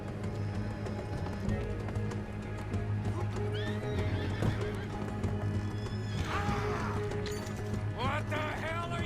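Horses whinny and neigh amid steady hoofbeats in Red Dead Redemption 2, loud and continuous over a dense mix of game music and effects, with a few sharp neighs standing out.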